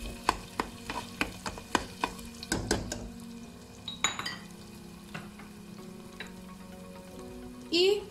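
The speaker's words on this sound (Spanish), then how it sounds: "ahora vamos a poner las cebollitas y los dientes de ajo laminaditos" Onions and sliced garlic cloves go into a pan that has just held ribs, with clattering stirs and utensil knocks over a soft sizzle, and a louder burst of frying at the very end.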